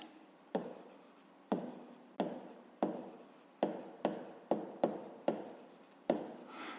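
Pen strokes writing out a maths solution for a fifth-grade exercise, heard as about a dozen sharp, close scratches in an irregular rhythm, each fading quickly, with no talking.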